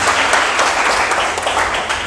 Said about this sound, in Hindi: यहाँ पे ताली हो जाए